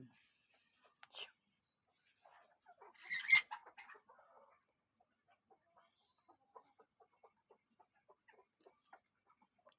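Wild junglefowl hens and a rooster cluck nearby, with one louder squawk then a run of soft, scattered clucks in a quiet setting.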